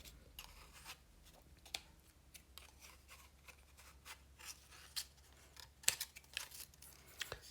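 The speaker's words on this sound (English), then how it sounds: "You can trim the string down here." Scissors trim string on a paper craft mobile, quiet snipping and papery rustling close by, with a few sharper cuts near the end and no voices.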